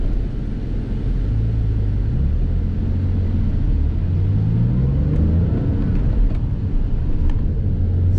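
A Porsche 996 911 engine drones loudly from inside the cabin, its low pitch climbing and dropping through gear changes from first to third with a steady road rumble; no talking.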